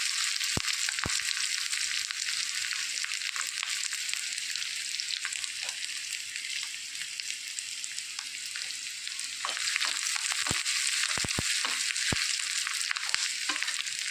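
Onion, ginger and curry leaves sizzle in hot oil with a steady, bright crackle, punctuated by occasional sharp ticks of spattering or a utensil tapping the pan.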